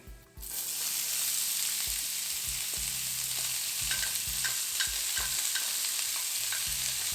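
Whole spices, cashews and chopped onion frying in about a tablespoon of oil for malai kofta, a loud continuous sizzle with repeated scrapes and knocks of a spoon stirring the pan.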